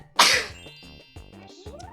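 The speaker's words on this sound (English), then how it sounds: "I'm gonna sneeze." One sharp, close sneeze bursts out, then fades into quiet breathy noise.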